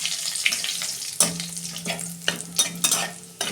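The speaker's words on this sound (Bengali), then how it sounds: "এই যে শুকনো লঙ্কা দিচ্ছি ফোড়নে, জিরে দিচ্ছি" Dried red chili, bay leaf and whole cumin crackle and sizzle in hot oil for a cabbage dish, with a steady close fry broken by several sharp spatula strokes against the pan.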